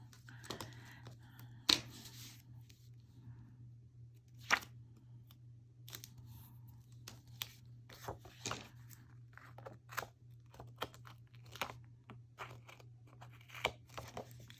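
Scissors snipping paper for a rustic Christmas craft, a series of crisp, isolated cuts spaced irregularly over a quiet room with a low steady hum, close and fairly soft.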